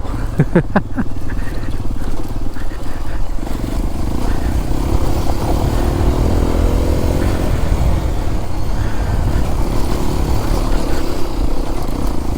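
Hero Xpulse 210 motorcycle riding off-road, its engine a steady loud drone throughout with a rumbling low end, a few brief knocks at the start and some wind noise over it.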